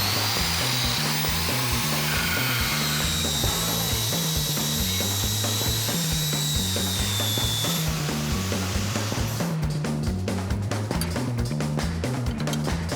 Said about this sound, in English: I think if we grind that thing down a little bit, I think it'll work.